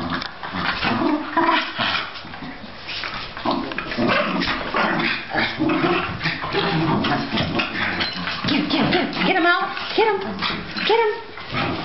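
Two Cairn terriers play together, giving small whimpers, snuffles and yips close by, with people talking and cooing over them almost continuously.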